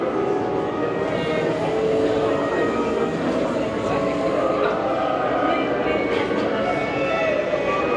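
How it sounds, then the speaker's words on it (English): A train rumbles steadily as it pulls into a station at the Wizarding World theme park, with clattering rail noise and a busy echoing hum, voices faintly mixed in throughout. "the train has pulled in"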